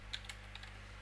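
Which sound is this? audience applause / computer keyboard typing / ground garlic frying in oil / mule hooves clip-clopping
computer keyboard typing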